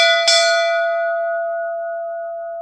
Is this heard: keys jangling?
no